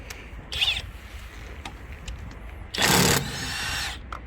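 Stark cordless brushless impact wrench, the most powerful model, tightening: a short whir, then a loud close burst of hammering lasting about a second and a half.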